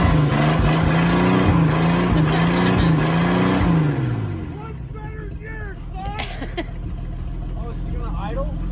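A 1950 Dodge engine loudly revs and drones with rising and falling pitch, then drops away into quieter rumbling as voices talk over it.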